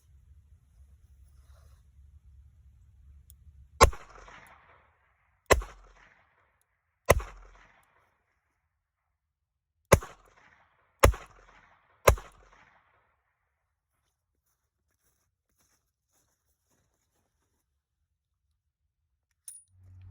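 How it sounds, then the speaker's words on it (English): An Enfield No. 2 revolver fires .38 S&W short rounds at an outdoor range: six sharp, loud, separate shots spread over about nine seconds and followed by quiet. "I was shooting 38 Smith & Wesson shorts"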